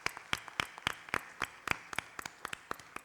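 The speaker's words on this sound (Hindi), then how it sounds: "मैम, इस बात पे पेरेंट्स के लिए भी जोरदार तालियां" Scattered applause from a school annual day audience of parents, sharp separate claps that come in uneven bursts, fairly close and with no speech over them.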